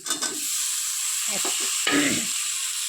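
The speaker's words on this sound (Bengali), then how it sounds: "টমেটোটা দিয়ে দিলাম নাড়াচাড়া দিয়ে অল্প একটু" Chopped tomatoes stirred into chicken frying in a pan, with a steady loud sizzle and a few scraping spatula strokes rising over it near the start, middle and end.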